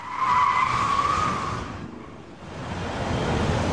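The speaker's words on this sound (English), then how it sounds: "one of the stunt maneuvers is a speeding 180-degree turn" A BMW 7 Series skids hard through a speeding 180-degree stunt turn, a loud tire squeal sliding for about a second and a half before fading into a broad rushing roar that swells again at the end, with no voices.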